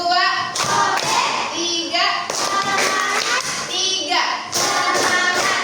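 Schoolchildren in a classroom clap a counted clap pattern in short bursts, mixed with loud children's voices chanting and talking close by.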